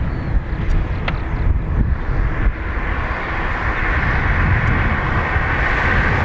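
A Ryanair jet takes off from runway 28 right at Dublin Airport, a loud, steady broadband roar heard from a distance with wind buffeting the microphone and no voices over it.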